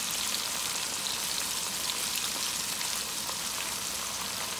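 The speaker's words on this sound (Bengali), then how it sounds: "এখন মেরে দেবো ধনে পাতাটা, ভাজা ভাজা হবে।" Coriander leaves crackle in hot oil for karahi gosht, a soft, continuous, rain-like sizzle at low level with no voices.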